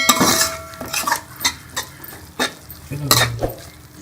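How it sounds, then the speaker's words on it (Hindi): Spatula stirring and roasting spices in a pan for stuffed capsicum, a series of close scraping strokes and clinks against the pan with a faint sizzle underneath, irregularly spaced. "तो हम मिक्स करके अच्छी तरह से भून लेंगे सारे मसाले को।"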